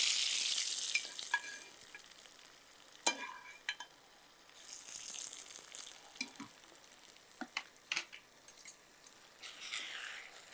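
Curry leaves and dried red chillies tempered in hot oil for a goat trotter thokku sizzle faintly when poured over the dish, giving soft, scattered crackles and brief pops over a low hiss.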